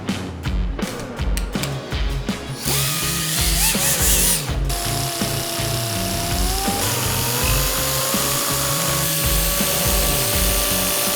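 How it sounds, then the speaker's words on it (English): A fiberglass fender flare is cut into two pieces at a workbench, with handling clatter and clunks giving way to a loud, sustained whining power-tool cut of rising and falling pitch, close by and with no voices. "now that I've cut my flare back into 2 pieces"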